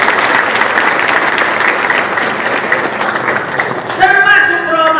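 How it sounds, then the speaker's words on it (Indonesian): A large crowd at a religious gathering applauds the SPN Polres Jabar police school, a loud dense wave of clapping held for several seconds before a voice begins talking over the tail end. "Tepuk tangan untuk SPN Polres Jabar"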